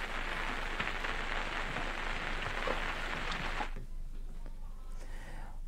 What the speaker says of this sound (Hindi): उत्तराखंड के पहाड़ी इलाकों में तेज बारिश लगातार जारी है।